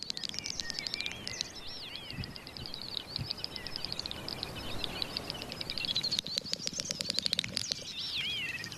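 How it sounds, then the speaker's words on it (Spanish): A great snipe's courtship call in a northern European peat bog: rapid bubbling, twittering and clicking calls repeat continuously against a hushed outdoor background, with a burst of fast ticking near the end. "Es la llamada de cortejo de la agachadiza real."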